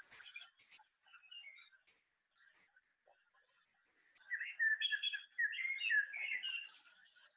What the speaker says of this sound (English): They filled the skies, the starling birds.